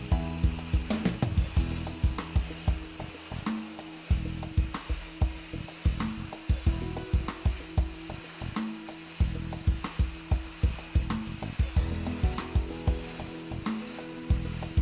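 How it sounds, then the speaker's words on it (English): A KV80 industrial single-phase vacuum cleaner with a 3000 watt vacuum system and squeegees sucking liquid from a wet floor, a constant loud whine broken by rhythmic repeated slurping pulses. "let's see the KV80 go to work on a wet floor."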